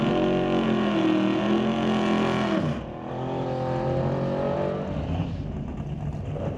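A BNC Racing Camaro drag car roars loudly and close at a drag strip, its engine holding a harsh sustained howl before the pitch drops and a second engine note carries on.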